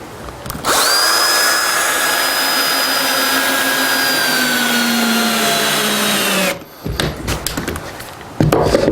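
A power drill drives Unger screws with toothed heads into wood fibre insulation boards on a timber frame, a loud steady whine lasting several seconds that slows and stops, followed by brief handling knocks and a short restart.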